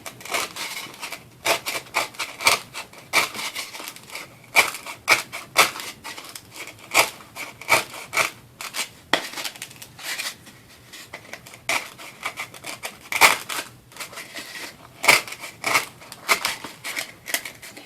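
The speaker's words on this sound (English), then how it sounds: "you can just go through and cut your circle out from the inside" Scissors snip through craft foam to cut a circle out from the inside, for a wedding centerpiece with flowers and a globe candle holder; steady close crunching snips in irregular bursts throughout.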